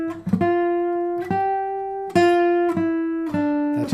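A sustained melodic line in G Mixolydian that lands on the flat seventh, played as a few clearly separated, held pitched notes with bright harmonics and soft attacks, close and steady with no talking.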